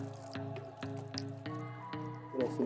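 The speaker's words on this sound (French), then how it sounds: "Vous rincez le plateau comme ceci." Water splashing and dripping while a poultry feeding tray is rinsed, soft irregular wet sloshes and drips close by, quiet overall, with a faint voice at the very end.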